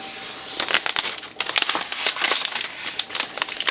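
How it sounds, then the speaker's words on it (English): Thin protective plastic film crinkles and crackles as it is peeled off a new iPad Air (4th gen, 64 GB), a close run of dry rustling bursts with no talking. "let's go ahead and take the plastic off"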